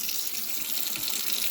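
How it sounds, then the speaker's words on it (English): Hot tap water runs over a Denon AVR 588 receiver circuit board damaged by rodents, a steady close hiss of flowing, splashing water with no pauses. "I'm going to start by just washing the board with just hot water to begin with."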